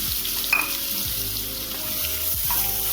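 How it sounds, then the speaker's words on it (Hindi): Chopped onion with cumin seeds and a dried red chilli frying in a pan for gatte ki sabzi, giving a steady close sizzle with a few soft stirring scrapes and no talking. "तो चलिए इसे गोल्डन ब्राउन होने तक अच्छे से भून लेते हैं प्याज को।"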